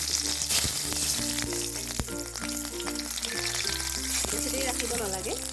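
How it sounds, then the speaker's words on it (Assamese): Panch phoron spices, a bay leaf and chili sizzle in hot oil for an Assam-style paneer curry, a busy, close crackle and spatter that stays dense throughout, with tonal music in the background. "তেল গৰম হৈ গ'ল, এতিয়া মই অকণমান পাঁচফোৰণ দি দিছোঁ আৰু লগতে তেজপাত আৰু"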